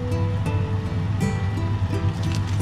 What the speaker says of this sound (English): so the water is already boiling